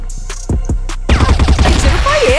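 Several sharp gunshots crack one after another in the game CrossFire, followed by a dense burst of rapid fire and clattering, loud and close.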